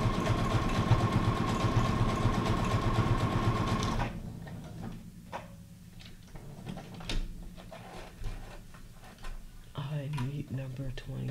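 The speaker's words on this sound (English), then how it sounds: "You do need to pull your sewing machine out, Jessica." A domestic sewing machine runs steadily and loudly for about four seconds, then stops, leaving quieter room sounds, small taps and handling noises.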